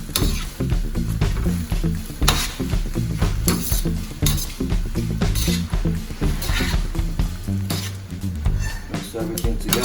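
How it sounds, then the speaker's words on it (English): Beef lo mein ingredients stirred and tossed in a pan, with steady scraping, clinks of utensil against metal and a light sizzle running continuously throughout. "Mix everything together, guys."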